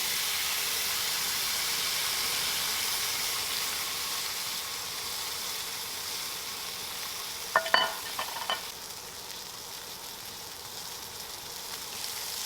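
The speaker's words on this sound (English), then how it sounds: "I do want to sear up the outside just to give it some nice flavor, so I'm going to do that inside on a cast iron skillet." Steak sears in a cast iron skillet with a steady, even hiss of sizzling fat throughout. A brief clatter of handling near the pan breaks in around the middle, then the hiss continues alone.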